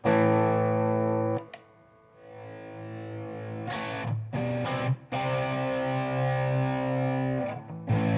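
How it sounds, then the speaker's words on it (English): An electric guitar plays through an overdrive pedal with a bass-heavy, muddy tone, sustained distorted chords ringing out with a few sharp strums and pauses between them. "great sound in overdrive, but just bass heavy."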